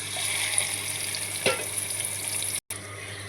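Spice paste sizzles in hot oil while cooking chicken, a soft steady frying hiss with a brief stir or clatter near the middle and a short dropout near the end.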